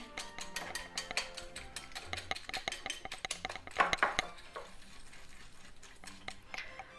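Rapid metallic clinking of a whisk against a bowl as eggs and sugar are beaten, continuous and busy with irregular louder taps, close by.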